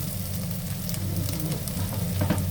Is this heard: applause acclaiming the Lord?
no